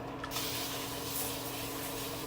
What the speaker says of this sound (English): I'm gonna spray one more time.